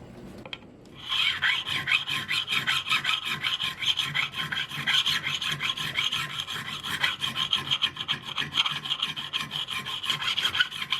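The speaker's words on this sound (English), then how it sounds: "Now let's take the Fret Guru. These are stainless steel frets, and let's crown the one next to it." A Fret Guru file crowns stainless steel guitar frets, making a close, steady rasping scrape in rapid back-and-forth strokes that continue for about ten seconds with no talk.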